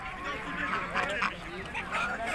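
Ducks quack in a busy outdoor poultry market, a cluster of nasal calls rising and falling nearby amid crowd murmur and people talking.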